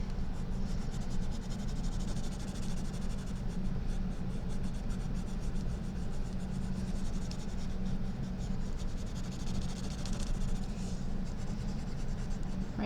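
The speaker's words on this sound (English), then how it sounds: "I'm going to use my pencil, and I'm going to fill up my circle." A pencil pressed firmly onto paper, filling in a circle with continuous soft scratchy strokes that stay close and steady throughout, with no speech.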